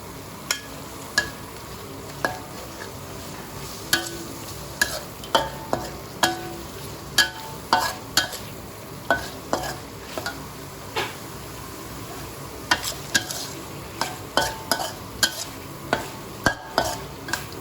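Pork belly stir-fried with curry paste in a pan, a continuous sizzle punctuated by regular sharp clicks of a spatula against the pan, close and steady, no voices.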